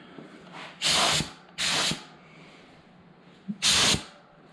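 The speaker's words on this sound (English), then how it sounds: "after I get done spraying it and it dries a little bit" Three short hissing bursts of a spray gun coating 5.3 pistons, each about half a second, separated by pauses over a faint background hum.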